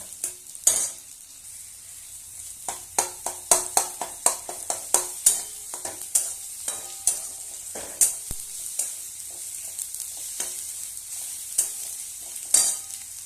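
Garlic and onion frying in hot oil with whole spices while a utensil stirs and scrapes the pan, a steady sizzle broken by repeated sharp metallic clinks at an uneven rhythm, close and fairly loud.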